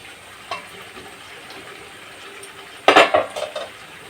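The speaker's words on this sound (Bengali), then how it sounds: "এবার ঢাকনাটা তুলে নেব।" A lid lifted off a pot of chicken curry with Malabar spinach stems simmering over medium heat: a soft bump, then quiet simmering, then a sudden metallic clank and a brief rattling clatter up close.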